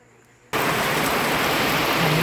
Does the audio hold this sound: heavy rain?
yes